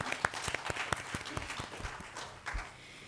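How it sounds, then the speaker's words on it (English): A conference audience applauds at an academic event, a brief burst of dense clapping that fades over a few seconds. "Just give yourself a huge round of applause for this."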